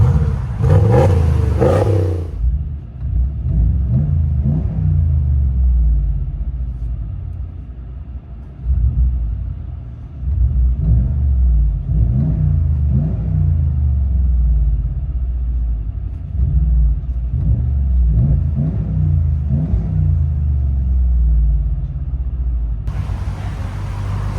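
Steady low engine rumble heard from inside the cab of a RAM 1500 with a 5.7L HEMI V8 and aftermarket exhaust, with a deep exhaust drone rising and falling as the truck drives, no talking.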